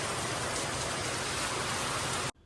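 Dense, loud heavy monsoon rain pouring steadily outdoors as a broadband hiss, then cutting off abruptly near the end.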